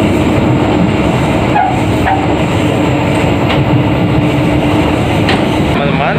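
The Ranggajati executive passenger train rolls along the rails in Indonesia, heard from inside as a loud, continuous rumble with clickety-clack wheel beats and faint squeals.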